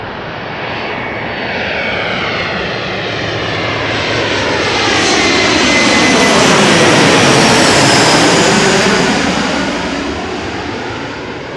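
An EasyJet Airbus A319 jet airliner arriving at Amsterdam Schiphol Airport in calm wind: a loud, steady engine roar that swells to a peak as it passes close, then begins to fade, with no voices.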